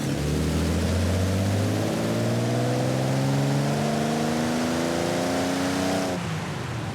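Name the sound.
V6 engine running at low RPM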